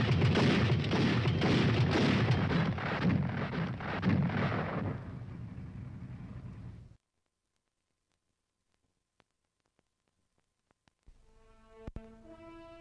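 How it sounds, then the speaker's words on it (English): An automatic anti-aircraft weapon on an M41 tank fires a fast, dense, continuous burst of heavy rounds for several seconds, then cuts to silence before a faint mechanical hum returns. "When it is used as a fully automatic weapon, it fires 240 rounds a minute."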